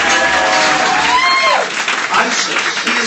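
Audience applause and cheering for a DJ at a live roast comedy tournament, with loud clapping and crowd noise under a voice that carries over it, then the applause thins out.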